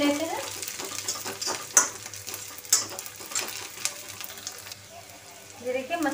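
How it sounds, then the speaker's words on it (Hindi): Chopped green chillies fry with already browned onions in a pan for a simbal dish, a steady sizzle with stirring scrapes and clicks heard close up while a person talks over it. "कटी हुई हरी मिर्च डालते हैं, इनको भी हम भून लेते हैं"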